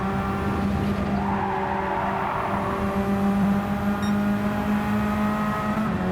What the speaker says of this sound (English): There's so much tyre squeal going on.